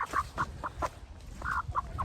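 A homestead hen gives a run of short, close clucks in an uneven rhythm, with one longer drawn-out note midway and no talking.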